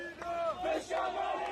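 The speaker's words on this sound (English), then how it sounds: "They're cheering as the rockets are fired into Israel." Crowd in Gaza chanting and shouting as rockets are fired, many voices raised together in a sustained cheering roar that rises and falls in waves.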